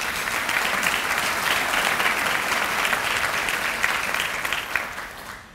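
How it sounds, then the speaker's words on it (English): A crowd at a charity's annual meeting applauds warmly and steadily for several seconds, dense clapping that holds level and then starts to taper at the end. "So please, a round of applause for those efforts."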